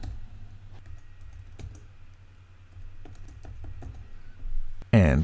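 Computer keyboard keys click in quick bursts while a username is typed, close and fairly quiet, with a brief voice at the very end.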